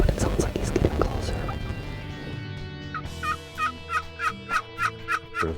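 Soft whispering gives way to a string of loud spring wild turkey gobbles, repeated in quick rhythmic bursts nearby.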